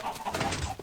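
Chickens in Minecraft give brief clucks in a short, close burst with a few quick calls layered together.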